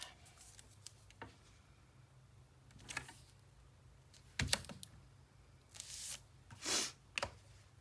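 Tape torn and pressed onto a Graphic 45 paper craft mini album, heard as scattered faint crinkles and taps followed by a few louder ripping bursts near the end.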